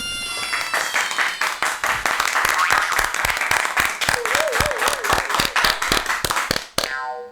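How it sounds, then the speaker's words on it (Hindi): Villagers clap to welcome a guest, a loud run of sharp, rhythmic, fairly sparse claps over several seconds, with a brief voice and a whistle-like tone mixed in. "तो सभी तालियां बजाइए, बजाओ बजाओ"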